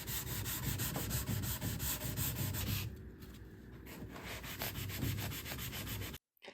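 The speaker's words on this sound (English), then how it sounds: "I'm just using a block sander to kind of distress the green part of the dresser" A block sander rubs steadily over a painted antique wooden dresser, distressing the finish with close, continuous scratchy strokes that ease briefly midway before cutting off at the end.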